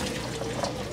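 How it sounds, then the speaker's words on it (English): Hominy corn and water are poured from a pot into a colander in a kitchen sink, a steady, close splashing rush of liquid lasting the whole moment. "bring it over to our sink and pour it in the colander"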